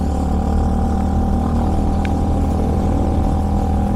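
Steady engine drone and whir of a Yamaha Aerox scooter being ridden, an unbroken mid-pitched hum with road noise, constant and fairly loud throughout, no voices.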